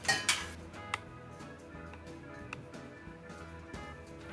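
Caster sugar, mixed spice and ground ginger stirred together in a bowl in a home kitchen, quiet scattered clinks and taps of a spoon against the bowl at an irregular pace.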